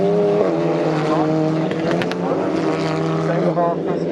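A TCR touring race car at Snetterton circuit roaring past with a loud, sustained high-revving engine note that shifts pitch as it passes, close and dominant throughout.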